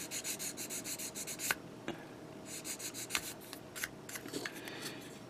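A Gundam Gusion Custom 1/100 plastic model part is rubbed against an 800-grit sanding stick, giving quiet, close, repeated scratchy strokes with a few sharper ticks in between.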